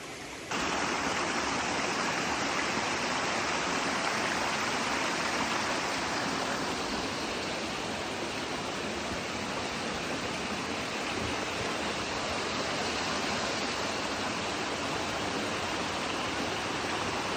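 A stream flows over rocks along Pine Tree Trail at Kelly's Run, making a steady close rush of water that runs unbroken from start to finish.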